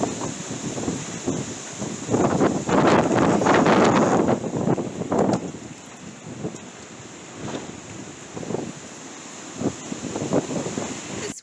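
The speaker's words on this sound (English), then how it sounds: "So now the wind is hitting the tarp" Strong gusts batter a tarp on a farm, surging in loud, rushing bursts that swell and fade unevenly, with rustling flaps close to the microphone.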